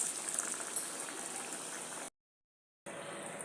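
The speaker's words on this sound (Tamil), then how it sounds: "நான் வடையை பொரித்து எடுத்துட்டு உங்களுக்கு வந்து காமிக்கிறேன்." Lentil vada deep-frying in hot oil, a dense continuous bubbling hiss that cuts out briefly to silence and then resumes at the same level.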